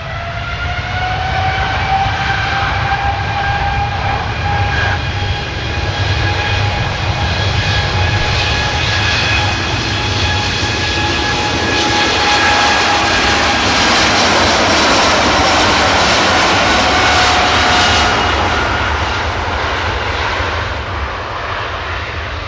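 A heavy Boeing 787 Dreamliner at Manchester Airport spools up its engines for takeoff, a loud, steady roar with rising whining tones that swells and brightens midway, heard alone and close.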